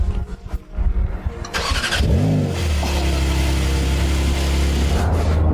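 A 2024 Porsche 911 Turbo S engine fires up and revs, a rising whine settling into a loud, steady close-up drone after some brief rustling and handling noise at the start.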